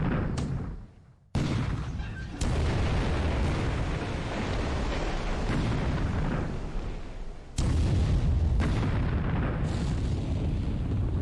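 Heavy naval gunfire from warships in War in the Pacific, booming and rumbling almost continuously in loud sustained volleys, with a brief lull near the start and a fresh surge of blasts partway through.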